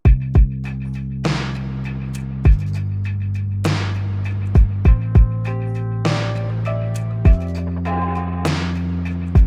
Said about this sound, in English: the drums sort of sound like this